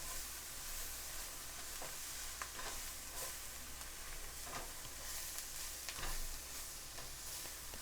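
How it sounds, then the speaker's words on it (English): Pork tenderloin frying in a pan, a steady continuous sizzle with scattered crackles and pops, close and fairly quiet, with no voices over it. "These sizzles sound so good."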